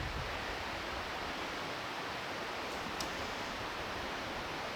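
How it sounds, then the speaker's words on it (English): Steady, broadband rushing water fills the whole stretch without a break, a creek tumbling down a ravine below at some distance, with nothing else standing out. "you hear a creek rushing down"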